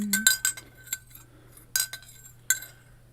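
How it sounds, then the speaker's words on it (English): A spoon stirs lemon tea in a glass, clinking against the sides in several bright, close taps spaced irregularly over a low hum, with no talking. "Now if I stir it up,"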